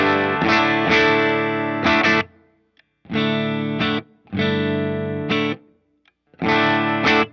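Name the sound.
electric guitar through direct amp modeler with big reverb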